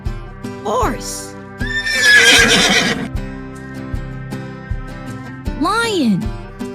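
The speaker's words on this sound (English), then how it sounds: "Horse." A horse neighs in a loud whinny near the start, then snorts in a long breathy burst, and gives another whinny near the end, all over light background music.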